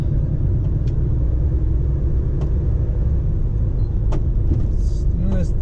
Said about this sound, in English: for some reason there's a lot of turbo noise